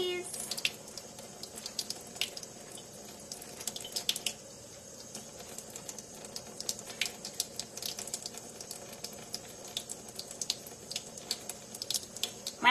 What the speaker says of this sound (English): When my water starts coming clear when I squeeze, I know I got the buttermilk out.